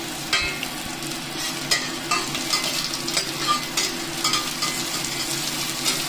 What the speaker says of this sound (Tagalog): so igigisa natin yung chicken. Ayan, lagay na natin yung onion.